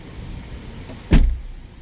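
A Porsche door unlatches and swings open with a single sharp clunk about halfway through, preceded by a faint mechanical hum in a quiet setting.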